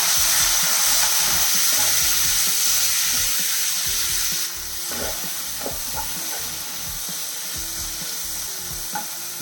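Chopped tomatoes fry with spice powders for a chicken curry, a loud steady sizzle close by with spoon scrapes and taps, the hiss easing a little midway.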